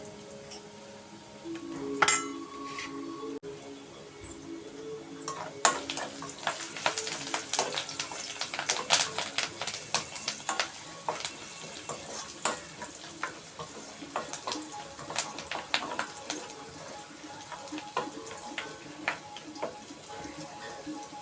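Red chili, curry leaves and turmeric frying in a hot pan make a continuous close sizzle, with frequent sharp clinks and scrapes from stirring throughout.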